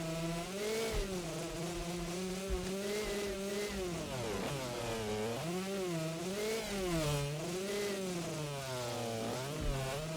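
2-stroke 125 dirt bike engine in the MX vs ATV All Out video game, a buzzing, whining motor rising and falling in pitch as it revs continuously, steady and alone without talk.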